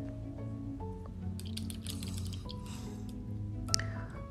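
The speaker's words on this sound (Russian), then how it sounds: "Промываем кисточку." Soft swishing and dripping of a watercolor paintbrush being rinsed in water, quiet and close, with a low background hum.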